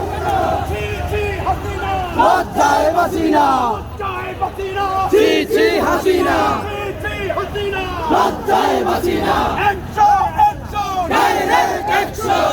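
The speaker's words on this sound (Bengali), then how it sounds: "তারা কিন্তু রয়েছে রাজপথে এবং তারা কিন্তু স্লোগান দিচ্ছে" A street procession crowd of protesters chants slogans in loud, rhythmic bursts, many voices shouting together close by with babble between the calls.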